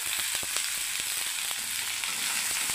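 Drumsticks added to a pan of frying raw banana and brinjal for a vegetable curry sizzle continuously and close, a dense hiss with faint crackles and no voices.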